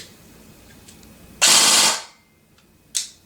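A Cyma AK104 airsoft AEG fires a short full-auto burst of about half a second, sharp and close, followed by a quieter second brief burst; faint mechanical clicks come before it.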